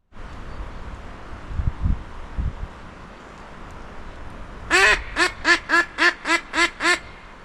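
A drake quacks in a forest during a windy hunt from a blind, a quick run of about seven loud, evenly spaced quacks after steady wind noise.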